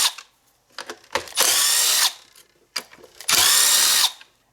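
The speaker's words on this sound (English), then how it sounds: "To remove this today, I'm using my impact with a T27 Torx bit." Impact driver fitted with a T27 Torx bit backing screws out of a two-stroke leaf blower engine, two loud close bursts of whirring and hammering, each preceded by light clicks and handling noises.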